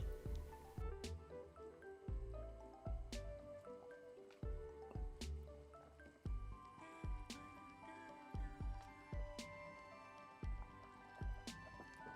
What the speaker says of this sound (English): Time to bring back the broth and scoop out all the mushy apples and onion.